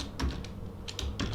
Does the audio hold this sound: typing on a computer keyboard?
yes